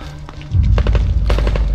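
Automatic machine gun fire from The Evil Within 2 crackles in several quick bursts after a low rumble, moderately loud and somewhat distant, with no talk over it.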